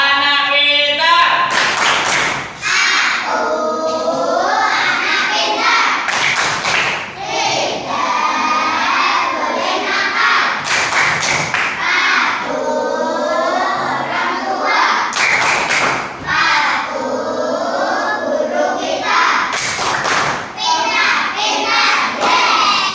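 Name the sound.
children clapping a chant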